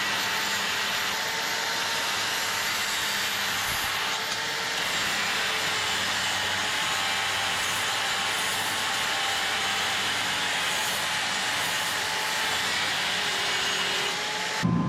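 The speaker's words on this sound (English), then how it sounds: "So I'm going to use the grinder and make it look like I know what I'm doing" An angle grinder smooths a weld on a steel frame, a steady, unbroken high-pitched whine with a harsh grinding hiss that stays loud and constant throughout, with no talking.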